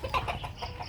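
Farm chickens cluck in a quick, soft string of short calls, close by and fairly quiet, on a muddy day just before a storm.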